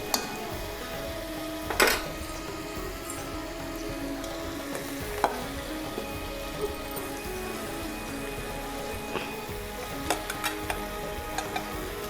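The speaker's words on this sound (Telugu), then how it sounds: "ఇవి ఆయిల్లోనే ఉడికించుకోవాలి మనం" Vegetables and chili powder frying in oil in a pan for sambar, a soft, steady sizzle with occasional clicks and knocks of a utensil against the pan, with no talking.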